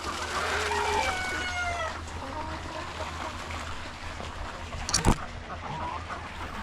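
Chickens in a farm coop cluck and a rooster crows early on, close and clear. Softer clucking continues over a steady background, and there is a brief knock near the end.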